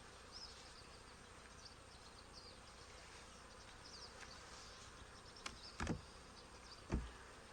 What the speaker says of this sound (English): Got a good bunch of bees in there.